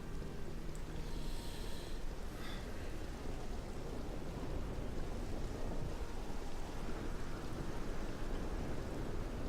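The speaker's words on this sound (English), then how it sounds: "It's raining. Of course it's raining." Steady rain falls in the video game Morrowind, a constant broadband hiss running evenly through the whole stretch with no voices over it.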